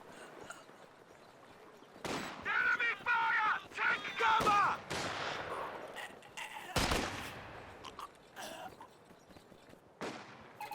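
Company of Heroes 2 battle with artillery and gunfire: sharp booming blasts and cracks strike at irregular intervals over a busy din of other combat noise, with a commentator talking at times.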